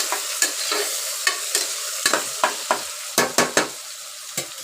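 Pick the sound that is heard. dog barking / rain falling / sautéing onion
sautéing onion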